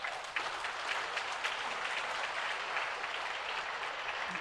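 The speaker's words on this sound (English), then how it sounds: "Let's give them all a round of applause." A crowd at an annual drug overdose prevention vigil claps for local health officials, a dense, even patter of applause at moderate distance, continuing steadily throughout.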